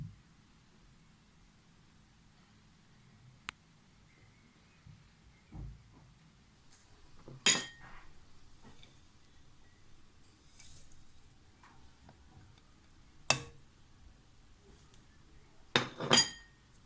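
Spoons clink sharply against a pot or containers as spice powders are added to moong dal, several scattered faint taps and a few louder metallic clicks in a quiet kitchen.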